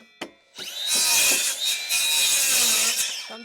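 Power saw with its blade set to 50 mm cutting through timber while building a garden office: a short tap, then a loud, sustained whining cut lasting about three seconds before the blade spins down.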